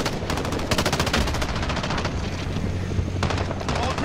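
Rapid gunfire fills a shooter video game, with dense bursts of automatic shots rattling continuously and loudly over a rumbling background, no pauses between volleys.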